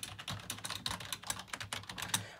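Rapid typing on a Logitech keyboard, a dense, steady stream of crisp key clicks close to the mic with no voices.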